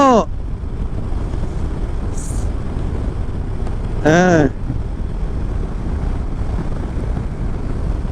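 Steady outdoor wind rushes and buffets the microphone throughout, near a parked BMW 310 motorcycle in an open wilderness-like area, a low continuous roar with brief voice sounds in between.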